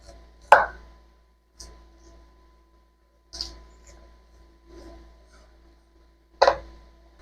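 A knife chops dried corn into pieces on a cutting board, giving a few sharp, separate cuts spaced a second or two apart with quiet gaps between.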